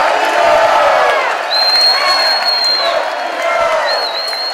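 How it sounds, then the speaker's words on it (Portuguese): Football crowd at Brinco de Ouro stadium roars and cheers in swelling waves, loud and sustained, with a few sharp whistles cutting through. "E olha a torcida."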